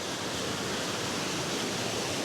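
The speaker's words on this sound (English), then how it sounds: "see the water falling" Ruskebe waterfall in Kenya, a steady broadband rush of falling water, continuous and even, with no voices.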